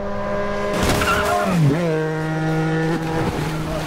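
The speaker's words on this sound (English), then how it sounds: "that's the sound of a motorbike knocking a bloke into the Thames" A loud motorbike engine revs and whines up and down with a sharp tire screech, a close, continuous skid lasting a few seconds.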